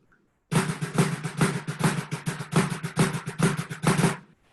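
A drum kit plays a fast, continuous pattern of rolling left-hand Swiss triplet strokes across snare and cymbals, loud and close, starting after a short silence.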